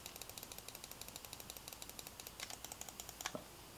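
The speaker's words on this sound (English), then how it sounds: "All the buttons, at least all these action buttons on the face, are kind of like a micro switch. They click when you hit them" Crisp micro switch action buttons on a Retron 5 controller click in a steady rapid rhythm, close and fairly quiet, with a couple of louder presses near the end and no talking.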